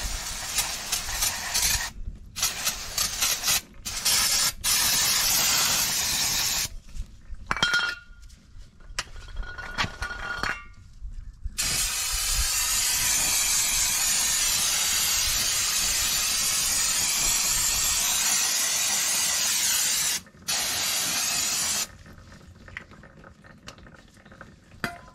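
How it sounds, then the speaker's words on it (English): Non-chlorinated brake parts cleaner sprays from an aerosol can onto the rear drum brakes of a 1989 Chevy K1500. Long, loud, close hissing blasts are broken by brief pauses, with faint metallic clinks in between. "So I'm just using just normal brake parts cleaner. This is non-chlorinated."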